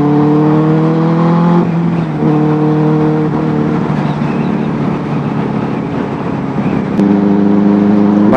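Loud, close engine note from a Benelli 600i motorcycle on the move, revving with a strong harmonic drone that drops away during a gear change in the middle and returns toward the end.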